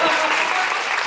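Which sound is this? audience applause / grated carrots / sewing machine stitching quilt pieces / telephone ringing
audience applause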